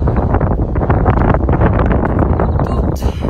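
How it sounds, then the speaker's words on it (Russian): Strong wind buffets the microphone in heavy, continuous gusts, loud and close throughout with no talking. "Тут ветер"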